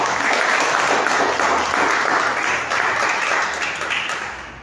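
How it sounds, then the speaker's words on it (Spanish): Church congregation breaking into loud, sustained applause during a Spanish-language sermon, a thick wash of clapping from many hands that holds steady and then slowly fades toward the end. "Un fuerte aplauso de la iglesia."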